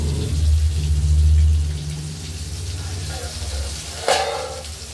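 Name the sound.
frying pointed gourd and prawns in a pan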